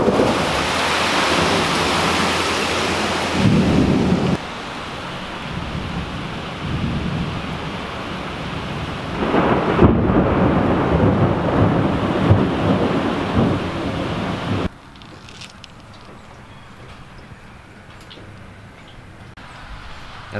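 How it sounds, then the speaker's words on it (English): Loud, rumbling thunder rolling through a downpour of heavy rain, with the roar shifting in intensity before easing to a lighter patter. "There's some serious lightning with this storm."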